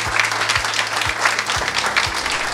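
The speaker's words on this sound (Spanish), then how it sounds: "Un aplauso pero grande para ella" Applause fills a room at a ceremony honoring the outgoing Red Cross president, dense steady clapping from a crowd with low periodic thumps underneath.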